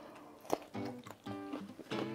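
Crunchy chewing and biting of lotus root eaten as part of a spicy mala hotpot meal, several close, crisp bites with pauses between them.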